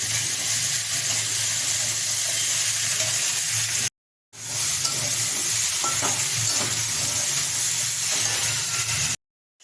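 A vegetable chorchori of drumstick stems, papaya and potato with whole-spice tempering cooks in fish-frying oil in a pan, giving a loud, continuous sizzle with steady stirring and scraping and a short break in the middle.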